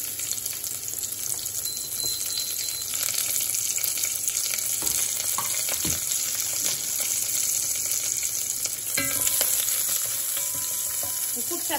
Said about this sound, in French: je vais mettre à rissoler les oignons